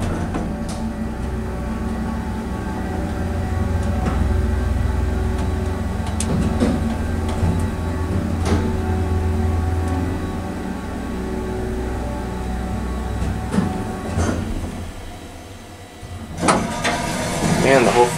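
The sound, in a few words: Atlas hydraulic elevator motor starting up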